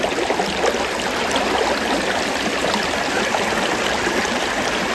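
Water flows beneath the ice of a frozen waterfall, Franklin Falls, with a loud, close, steady rushing and burbling that continues without pause.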